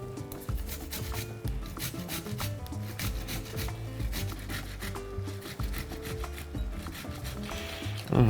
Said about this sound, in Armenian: երկու լոլիկ ենք քերում